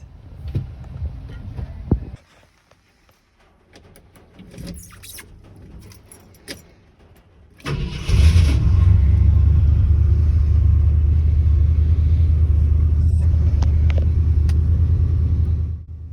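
1968 Ford F100 pickup truck at a seller's house: key and starter rattle and cranking, then the engine catches and settles into a loud, steady rumbling idle close by, without talking.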